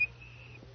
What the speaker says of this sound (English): Just to peek at him through the bars and whistle at him like this.